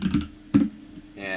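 A few sharp keystrokes tap on a computer keyboard, close and distinct, separated by pauses, before a voice starts talking at the end.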